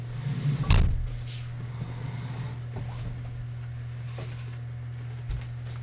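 A chair is moved away indoors with one sharp knock and scrape, followed by faint shuffles over a steady low electrical hum.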